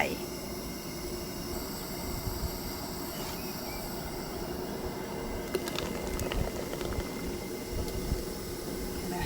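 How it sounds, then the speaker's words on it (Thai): Mixed berry liquid boiling in a pot for homemade fruit wine, a dense continuous bubbling hiss, fairly faint and steady, with a few soft clinks and a sharper knock near the middle. "แล้วก็ต้มพอเดือด"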